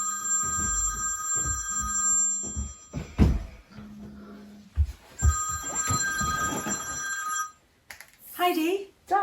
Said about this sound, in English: a mobile phone rings